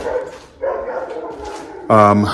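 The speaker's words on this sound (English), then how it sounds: "Excuse my neighbor's dog." A neighbor's dog gives a single sharp bark near the end, close and loud after a stretch of quieter sound, while someone talks in a garage.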